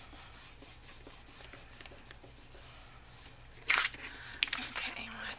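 A hand or tool rubs paper down onto a paper bag journal, a close, soft, repetitive scraping that keeps a steady rhythm, with a brief louder crinkle partway through and faint speech under it.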